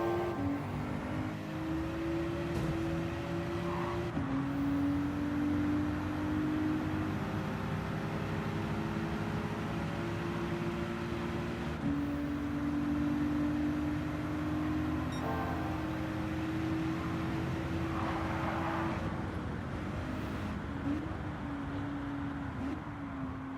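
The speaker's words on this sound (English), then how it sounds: "Oh, I love hearing it throttle back up." Race car engine in Gran Turismo 7 holding a steady tone, then dropping off and climbing back up in pitch as the throttle reopens, repeating through the run under constant road and wind noise.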